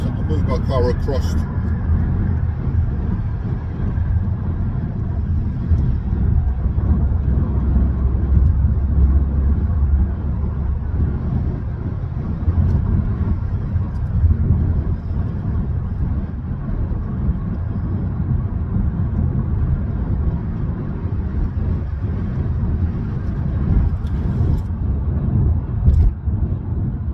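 Continuous low rumble of a car cruising along the A13 dual carriageway between Grays and Laindon, with steady road and engine noise from inside the cabin and someone talking over it at times.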